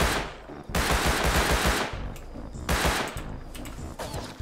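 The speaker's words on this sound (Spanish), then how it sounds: "me acaban de dar un disparo" In the video game Rust, two loud bursts of rapid gunfire, each lasting about a second and a half, with a quieter stretch of continuing shots between them.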